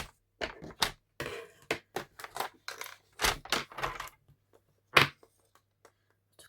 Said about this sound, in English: I'm going to bring in my cutter and I'm just going to cut off a section here.